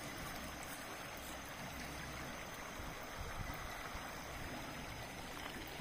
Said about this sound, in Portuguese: A correnteza aqui é bonita, viu, galera?